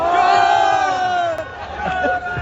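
Crowd at a Nawaz Sharif political rally in Vehari, Pakistan, chanting slogans together in a loud, dense roar with sustained voices and rhythmic shouts.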